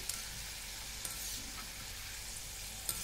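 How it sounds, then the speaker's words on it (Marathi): Chana dal deep-frying in hot oil in small batches gives a steady, dense sizzle that holds evenly throughout, with a few faint clicks over the bubbling. "अगदी थोड्या थोड्या बॅचेसमध्ये आपल्याला तळून घ्यायचे."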